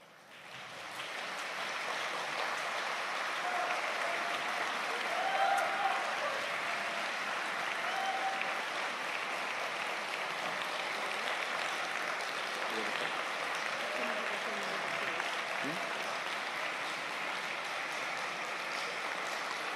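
A synagogue congregation applauds on Rosh Hashanah in a long, sustained wave of clapping from a large crowd that fills the room, with scattered voices mixed into the applause.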